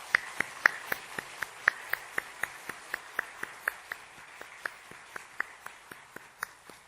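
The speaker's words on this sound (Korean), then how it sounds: "자, 우리 인사하실 때 큰 박수로 한번 축복하겠습니다" A church congregation at a Sunday worship service in Jeonju, Korea, claps in a steady, even rhythm: about two dozen sharp, distinct claps at regular intervals, with no talking over them.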